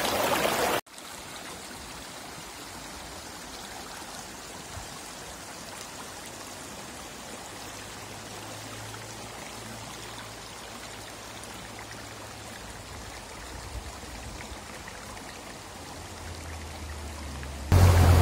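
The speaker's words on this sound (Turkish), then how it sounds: "Hemen Erzurum Deresi'ne dökülüyor işte Kokar Su." Sulfurous spring water spills steadily into a mountain creek in the Amanos mountains at Erzin, Hatay, making a constant rushing, trickling wash that is fairly quiet and continuous and is cut off by brief louder bursts at each end.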